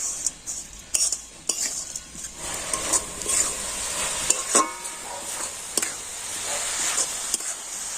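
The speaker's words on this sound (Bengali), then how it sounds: "কন্টিনিউ নাড়াচাড়া করে তো সুন্দর একটা পুর তৈরি করে নিয়েছি" Coconut and date-palm jaggery filling stirred in a pan, with repeated close scraping strokes of a spoon and sharp metal clinks over a soft sizzle, continuous throughout.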